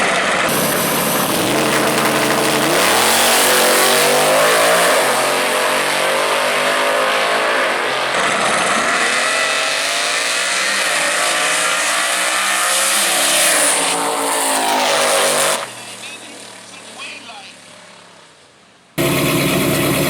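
A drag racing car makes a solo pass in the right lane at World Wide Technology Raceway, a loud sustained engine roar with tire noise that climbs and shifts, then drops away briefly before the roar cuts back in near the end.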